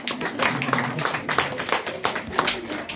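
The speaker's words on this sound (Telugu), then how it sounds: "చప్పట్లు మీకు మీరే." A group claps together in steady applause for a few seconds, close and fairly loud, with some voices mixed in.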